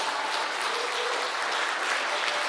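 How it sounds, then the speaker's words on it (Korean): Steady, dense audience applause fills a talk concert hall after a horn performance, continuous and even with no voices over it. "수고해주신 호른 선생님께 다시 한번 큰 박수 부탁드립니다"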